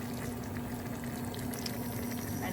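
Broth poured into soy sauce for a dipping sauce, a steady soft stream of liquid with faint bubbling hiss, close and continuous with no talking.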